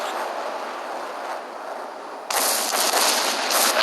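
A missile launches from a jet fighter in the Ace Combat Skies Unknown video game: a steady roar of engine noise, then a sudden loud, broadband whoosh that stays strong to the end.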